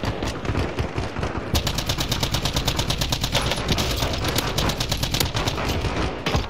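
Rapid automatic gunfire from a gun in Call of Duty Warzone, sustained bursts of dense repeated shots, loud and close, continuing almost without pause across the stretch.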